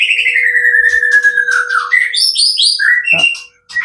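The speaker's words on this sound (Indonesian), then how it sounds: "Untuk murai batu yang over birahi ketika kita tampilkan di lapangan" A white-rumped shama at a songbird competition field sings loudly and close, a long descending whistle followed by quick chirps, rising trills and varied phrases with a brief pause near the end.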